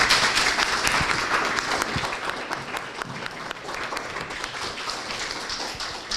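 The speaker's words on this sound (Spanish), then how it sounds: "Para cerrar la noche yo quisiera tributarle un fuerte aplauso a Javier" An audience at a talk on the comic Selva misteriosa applauds Javier at the close of the night, a continuous, full round of clapping sustained throughout the clip, with faint voices beneath.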